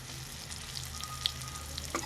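Garlic frying in a pan until golden brown, giving a steady soft sizzle with a few faint ticks and pops scattered through, heard alone with no voices.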